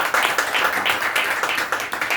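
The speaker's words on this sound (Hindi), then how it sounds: "एक बार जोरदार तालियां बजाइए।" An audience at a literary gathering claps loudly together in a dense, continuous burst of applause that stays strong throughout.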